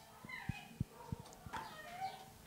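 Gray and white shelter cat meowing in a kennel, several short soft meows and thumps at a moderate distance, quiet and alone.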